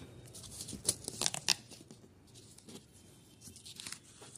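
A paper envelope letter from Google torn open by hand, several sharp close ripping bursts followed by quieter rustling and a few further small tears.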